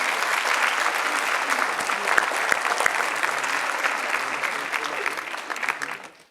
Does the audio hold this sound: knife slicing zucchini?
no